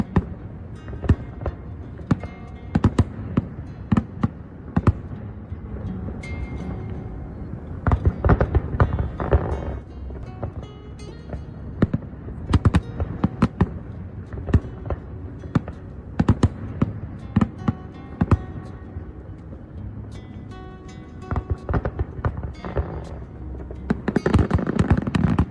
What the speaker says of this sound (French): Le balai des feux d'artifice est lancé.